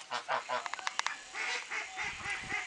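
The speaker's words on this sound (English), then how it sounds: "In here in the pen, we got a goose sitting." A goose sitting on a large nest in a pen gives a series of nasal honks and rougher calls, close by and fairly quiet, with no other sounds around.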